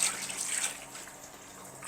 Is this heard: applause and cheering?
no